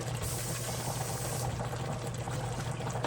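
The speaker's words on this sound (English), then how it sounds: "I'm going to rinse that jar out and pour a little bit of water in there." Tap water is poured into a rinsed glass spaghetti sauce jar in a kitchen. It makes a steady, close, rushing splash that lasts throughout with no speech.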